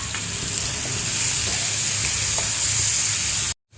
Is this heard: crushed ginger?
yes